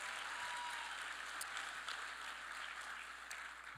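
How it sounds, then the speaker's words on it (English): Sustained audience applause fills a banquet hall at an awards dinner and Hall of Fame induction ceremony, a steady dense wash of clapping heard from within the crowd, holding for about four seconds before easing slightly. "She deserves all the applause."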